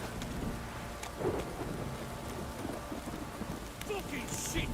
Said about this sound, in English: This downpour's a bastard, it